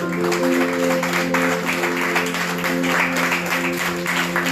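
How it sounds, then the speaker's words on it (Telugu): A church congregation claps for Jesus during a worship service, a steady wash of applause sustained over droning musical tones. "అందరూ చప్పట్లు కొట్టండి యేసయ్యకి"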